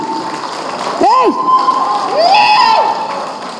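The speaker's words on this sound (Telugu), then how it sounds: "గట్టిగా ఒకసారి చప్పట్లు to the complete direction department" A crowd at a film pre-release event applauds and cheers, with rising whistles cutting through the noise for a few seconds.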